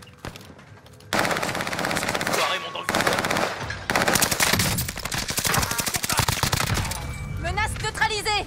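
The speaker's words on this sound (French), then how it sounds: "Ces enfoirés sont en train de me canarder" Sustained machine gun fire in the Warzone video game, loud rapid bursts of closely packed shots after a quieter opening, continuing almost without pause, with a voice speaking at the end.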